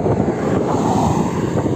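Steady wind roars and buffets against a FIMI X8 Mini drone in flight, a loud, unbroken rushing with no gaps and no talking.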